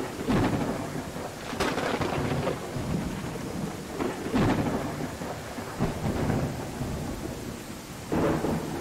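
Summer thunderstorm in the Viking settlement-building game Land of the Vikings: steady rain hiss with repeated loud thunder cracks and rolling rumbles, close and dominant, no talking.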